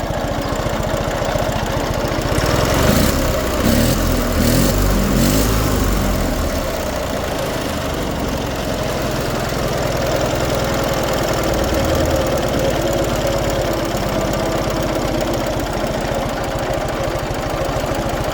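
An MTZ-082 mini tractor engine idles at minimum revs, a steady, even low-pitched chugging that holds close and constant throughout with no talk over it.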